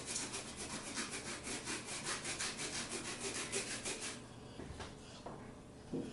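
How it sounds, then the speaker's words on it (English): Fresh ginger root is rubbed against a grater in quick, even back-and-forth strokes, a close, rhythmic rasping that slows and softens toward the end. "I'm just going to start by grating up 1 tablespoon of the ginger root here"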